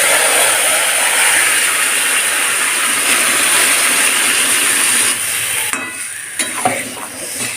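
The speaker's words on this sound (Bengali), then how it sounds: "মাংসটা এবার আমি দিয়ে দেবো।" Marinated chicken sizzles loudly in a hot wok, a steady close hiss that thins out near the end as the frying quiets.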